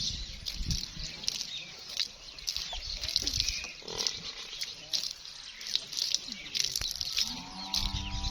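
A Nili buffalo on a Pakistani farm lets out a low, drawn-out lowing near the end, rising over steady background chatter and outdoor noise.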